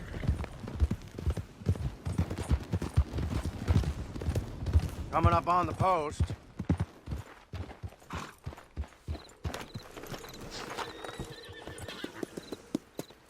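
Horse hooves clip-clop steadily in Red Dead Redemption 2 Online, with a horse neighing partway through and gunfire scattered around, mixed under someone talking.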